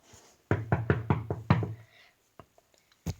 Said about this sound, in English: Okay, we're knocking on Susie's door